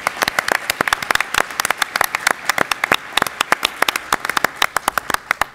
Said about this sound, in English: I'd like you to give him a round of applause.